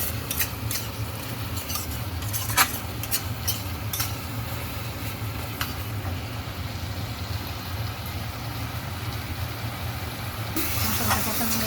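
Spice paste sizzles in oil in a pan while being cooked down for a papaya curry, with a steady close-up frying hiss and repeated clicks and scrapes of a spatula stirring against the metal.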